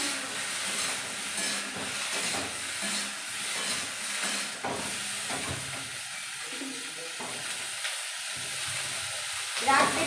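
Soft sizzling of beetroot and other vegetables frying in oil for a home-cooked village curry, a low crackling hiss with occasional stirring scrapes and no talk.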